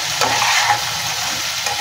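Masala rice seasoned with pav bhaji masala being stirred and sautéed in a pan, a steady close sizzle with scraping spoon strokes throughout, no voices.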